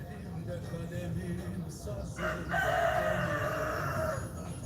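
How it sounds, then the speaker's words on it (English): Roosters crowing near a cafe in Istanbul, a couple of drawn-out crows rising clearly over a steady background murmur of voices and cafe ambience. "Roosters."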